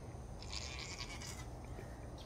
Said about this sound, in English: Goats are just making noise.